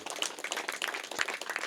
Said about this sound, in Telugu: పిఎంసి టీంకి ఒకసారి గట్టిగా చప్పట్లు కొడదాం.